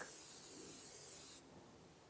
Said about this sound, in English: I spray some oil on there so the chicken doesn't stick